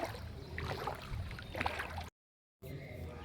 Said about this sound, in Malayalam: ഇങ്ങനെ നടക്കാൻ, വെള്ളത്തിനകത്തൂടെ നടക്കാൻ നല്ല രസമുണ്ട്